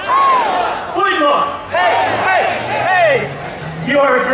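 An outdoor festival crowd watching Ukrainian Kosak dancers shouts a rhythmic cheer, loud voices rising and falling in repeated bursts, a male announcer calling out amid the roaring response.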